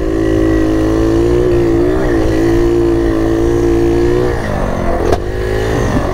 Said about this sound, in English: I'll shake it down for you with a few fast laps here